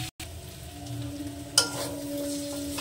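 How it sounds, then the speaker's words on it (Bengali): Boiled potatoes stirred and fried with spices in a pan for a potato and green pea curry, a steady soft sizzle with one brief scrape of the spoon partway through. "এবার এখানে আমি দিয়ে দেবো সিদ্ধ করে রাখা আলু। এবার সুন্দর করে নেড়ে চেড়ে কষে নেব।"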